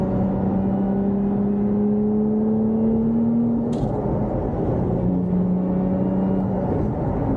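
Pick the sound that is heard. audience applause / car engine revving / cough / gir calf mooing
car engine revving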